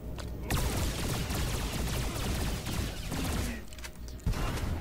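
Rapid blaster fire from a bounty hunter in Star Wars: The Old Republic rings out in a dense, continuous volley of sharp bolts. A short gap comes near the end before a final loud shot, and no voices are heard.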